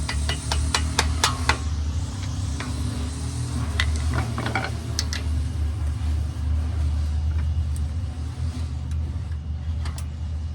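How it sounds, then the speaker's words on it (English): Sharp metallic taps of a hammer driving pins out of an Infiniti G37 brake caliper ring out in a quick cluster near the start, then scattered strikes follow over a steady low rumble of background noise. "Just hammer these pins out."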